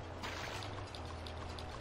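Waterfall in the video game Alundra, a quiet, continuous rushing and splashing of falling water held at a low, even level with no voices.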